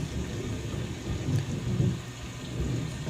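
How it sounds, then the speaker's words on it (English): Deep thunder rumbles and rolls through a thunderstorm, swelling twice in low booming peaks over a steady bed of rain, loud and continuous throughout. "Is that thunder?"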